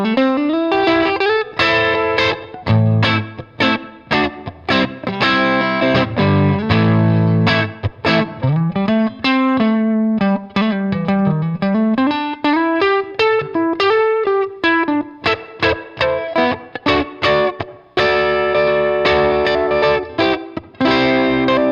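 Fender Custom Shop '59 Stratocaster played on the neck pickup through a Benson preamp into a Milkman 10-watt amp with a touch of reverb, a warm, round melodic passage with bends and chords, played alone.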